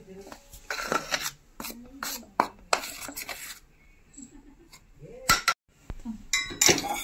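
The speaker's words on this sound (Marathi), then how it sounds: "तर चमच्याच्या साह्याने ना फिरून घ्यायचं, छान असं टाकून घेते।" A metal spoon clinks and scrapes against a bowl while hot oil (mohan) is stirred into flour for crisp sev, with several bright clinks and rubbing sounds between moments of voice.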